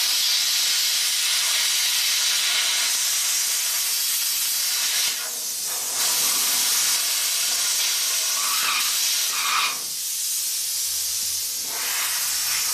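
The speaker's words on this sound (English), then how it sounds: "That's why I love plasma cutters" A plasma cutter slices through metal with a loud, continuous hiss and roar, breaking off briefly partway through and again near the end before starting up once more.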